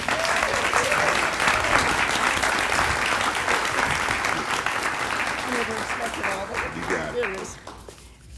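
A large audience applauds Janet Winkler at a film studio grand opening, a dense, steady wash of clapping that holds loud throughout before tapering near the end, with a voice faintly rising under it at the close.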